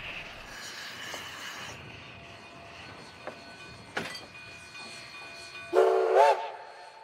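Narrow-gauge Cumbres & Toltec helper steam engine 487 rolls over a road crossing with a low rumble, and a sharp whistle blast sounds near the end.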